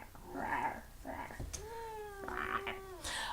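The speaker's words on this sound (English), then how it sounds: "There's a cat." A cat meows in a drawn-out, wavering call that rises and falls, with a shorter cry before it and another at the end, all close and clear indoors with no one talking.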